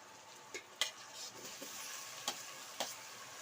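Chopped tomatoes frying in a pan for tomato rice bath, a soft steady sizzle with a few sharp spoon scrapes and taps as they are stirred, close and fairly quiet with no speech.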